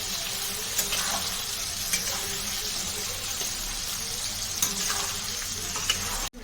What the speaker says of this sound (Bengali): একটু নেড়ে নেব আবার মিনিট দুয়েক মতো একটু নাড়াচাড়া করে নেবো